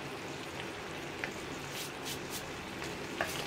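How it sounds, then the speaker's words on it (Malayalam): Potato and cauliflower curry with kasuri methi is stirred in a hot pan, giving a steady soft sizzle with a few faint scraping strokes and light spattering ticks. "ഇനി ഇതെല്ലാം ചേർത്തൊന്ന് ഇളക്കി ഈ കസൂരിമെത്തി ഒന്ന് ചൂടായി വരണം"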